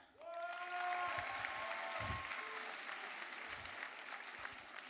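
A school talent-show audience at a Mauricie secondary-school final answers a host's question with a sudden burst of applause, a full, even wash of clapping from a large crowd, with scattered voices and a few knocks underneath.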